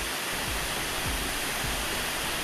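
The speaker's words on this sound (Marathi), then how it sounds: "हा जो आहे तर आय गेस फर्स्ट वॉटरफॉल आहे खांडी पॉईंटला जाताना" Bendewadi waterfall near Pune, on the way to Khandi Point: a loud, continuous broadband rush of falling water close by, steady throughout with no other sounds.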